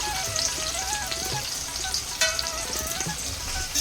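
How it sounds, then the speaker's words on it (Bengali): Chopped onions fry in oil with cumin, bay leaf, dried chilli and whole garam masala, giving a steady, close sizzle with faint stirring; no voices. "পেঁয়াজটাকে ভালো করে একটু ফ্রাই করে নেব"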